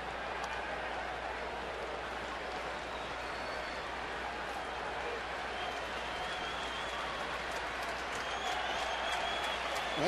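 A baseball stadium crowd cheers at a San Diego at Arizona game: a steady, dense roar of applause and voices that holds throughout and swells slightly at the end.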